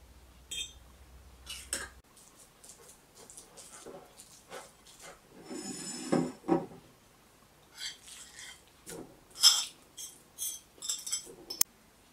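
Canned fish is mashed with a fork in a bowl, giving quiet, irregular scraping and soft tapping clinks of metal on dish, close up and with no talking.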